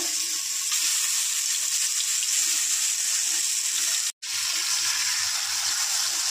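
Water hits a hot pan of mustard oil with salt and black cumin spice paste, for a Bengali fish fry, giving a loud, steady, close sizzle with one brief drop to silence partway through.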